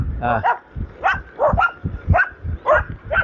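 Dogs bark close by in a quick series of about six sharp, yelping barks at an irregular rhythm over roughly three seconds.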